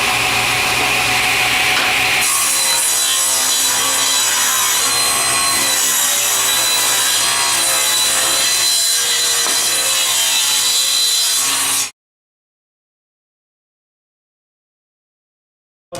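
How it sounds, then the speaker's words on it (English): Table saw ripping a 2-inch-wide wood strip guided along the rip fence, a loud, steady, continuous whine lasting about twelve seconds before cutting off abruptly into silence. "put our best edge up against the fence, the rip fence here, and we're going to cut a 2-inch wide piece"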